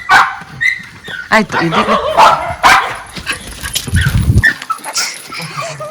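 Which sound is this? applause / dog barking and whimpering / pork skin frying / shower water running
dog barking and whimpering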